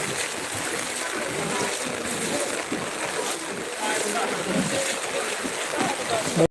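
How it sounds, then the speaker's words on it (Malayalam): Steady, loud rushing water roars continuously as the flooded Kannara river surges past after Peechi Dam opened, with a voice faintly audible beneath the noise. "പുഴയിൽ നിന്ന് ശരിക്കും പുറത്തേക്ക് തേട്ടി വരുന്ന വെള്ളമാണ് കേട്ടോ"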